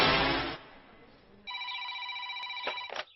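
A telephone rings in a domestic scene, its steady electronic tones sounding clearly after a brief burst of talk, with a few clicks near the end.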